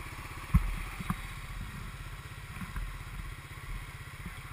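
A Honda 350 Fourtrax four-wheeler ATV engine idles steadily at a low, even putter, fairly faint, with a couple of light clunks early on.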